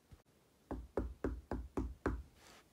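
Six loud, evenly spaced knocks on a door in a horror video game set around Fazbear Entertainment, each a sharp thud, heard alone with no talking.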